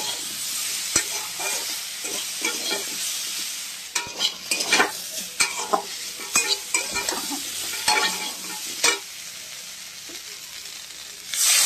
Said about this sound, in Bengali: পটলটা কেটে তো নিয়েছি, তরকারিটা বসিয়ে দিয়ে